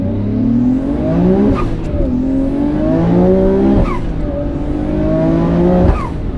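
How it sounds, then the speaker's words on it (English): A turbocharged car revs hard and climbs through the gears, its engine note rising then dropping sharply at each shift, loud and close, with brief gaps while boost builds. "Do you see how long it takes to build boost on every shift?"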